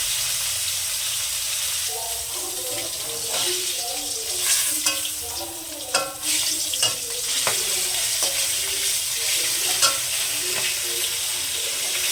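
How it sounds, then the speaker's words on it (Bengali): Pieces of lata fish sizzle with spices in hot oil over a lowered gas flame. A constant bright frying hiss runs throughout, broken by repeated scraping and stirring knocks from a utensil in the pan. "তেলটা গরম হয়ে গেছে আমি গ্যাসটাকে একটু ছোট করে দিয়ে মাছ কাটা দিয়ে দিলাম মশলাটাকে সুন্দর করে ভেজে নেবো"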